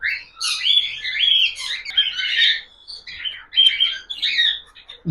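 Pet budgerigars chirp and warble in quick, overlapping bursts, close and fairly loud, with brief pauses between phrases.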